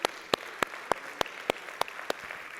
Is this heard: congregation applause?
yes